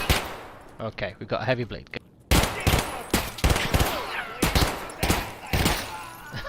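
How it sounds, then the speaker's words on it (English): Rapid gunfire in Escape from Tarkov aimed at a scav, sharp close bursts after a brief lead-in, with an in-game voice speaking briefly before the shots. "So here's a scav. Let me shoot it."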